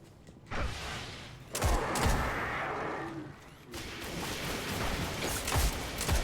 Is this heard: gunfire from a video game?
yes